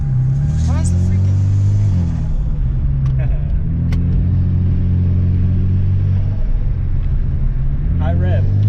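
Car engine revving at high rpm, a steady loud drone with rising pitch sweeps near the start and end, with people talking over it close by.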